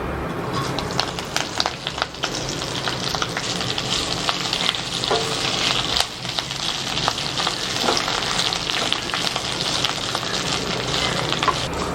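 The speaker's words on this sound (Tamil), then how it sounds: "கருவேப்பிலையை நல்லா இது மாதிரி ட்ரை ஆகிற வரைக்கும் வறுத்துக்கணும்" Curry leaves frying in hot oil over medium heat, a close, steady crackling sizzle with sharp pops and stirring scrapes throughout.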